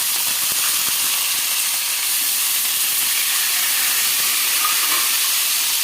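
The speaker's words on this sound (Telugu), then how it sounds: "ఇవి వేగాలండి, బాగా బ్రౌన్ కలర్ వచ్చే వరకు వేగాలన్నమాట." Onions and curry leaves fry in a pan with a steady, close sizzle and hiss for about six seconds, and no voices.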